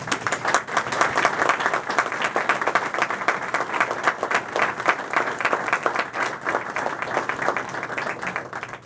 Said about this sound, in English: show your appreciation for all Purple Heart recipients with a round of applause